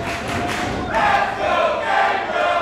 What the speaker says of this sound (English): this crowd here rallying behind Gangrel